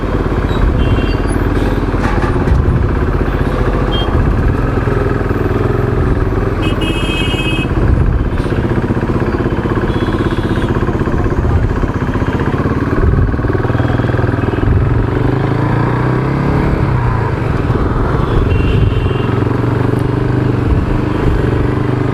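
KTM RC 390 motorcycle ridden through city traffic, its engine a steady close droning hum that holds for the whole stretch, with surrounding road noise and no talking.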